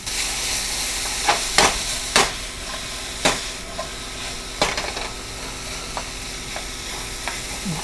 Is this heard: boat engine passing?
no